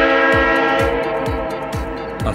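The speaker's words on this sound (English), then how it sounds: "Freight Train." A freight train sounds its horn in one sustained, steady blast while low rhythmic rumbles thud beneath it, loud and near.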